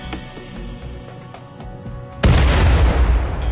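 Grenade explosion in RimWorld: after a couple of seconds of quieter game ambience with faint pops, a single loud, close blast erupts and lingers as a broad rumbling roar.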